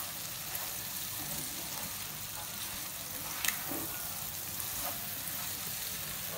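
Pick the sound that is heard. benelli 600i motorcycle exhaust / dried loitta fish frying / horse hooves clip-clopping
dried loitta fish frying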